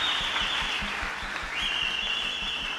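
A church congregation at a Sunday service claps, a moderate, fairly quiet patter of applause running steadily under a faint high tone.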